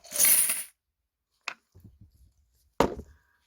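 A 1973 Korean 100-won coin being handled: a bright rustle, then a few sharp metallic clicks and small taps on a surface, close and quiet with silence between them.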